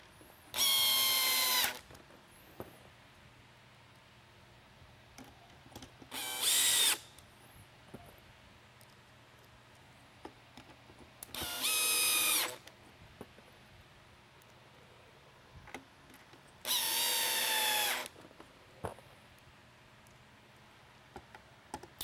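A power drill drives screws into a SoundOff Pinnacle Mini lightbar in four separate whirring bursts, each a second or two long, spaced several seconds apart, with quiet clicks and handling noise between them.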